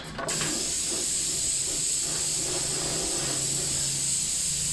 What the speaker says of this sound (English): So let's load up the spray gun and go for it.